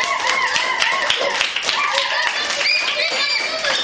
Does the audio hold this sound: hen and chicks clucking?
no